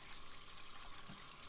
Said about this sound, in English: Rinse it off with some water.